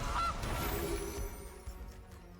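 A goose honk from the Gilded Goose card in the MTG Arena card game sounds loud and close at the start, then fades into a cluttered game backdrop.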